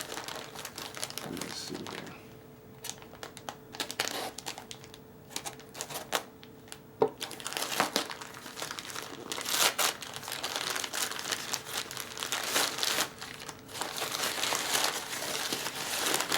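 Crinkling plastic packaging being torn open around a new Stiletto Hogue X5 Wharncliffe knife, a run of crisp, close rustles and crackles lasting throughout, with someone speaking briefly over it.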